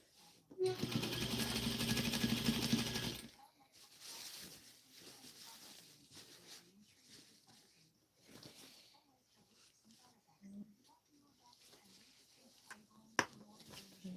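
A sewing machine runs a seam in one loud, steady burst of close mechanical whirring for nearly three seconds, followed by quieter handling noises and someone talking.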